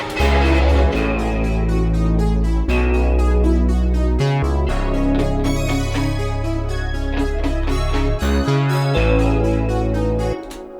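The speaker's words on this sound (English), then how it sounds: "a secondary break where I bring back the OB6 synth, which sounds like this" A full, sustained Oberheim OB-6 analog polyphonic synthesizer chord part with thick layered tones and steady bass, shifting chords every couple of seconds, loud and continuous with no voices.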